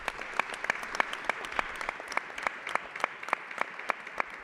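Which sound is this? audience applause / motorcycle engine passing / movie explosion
audience applause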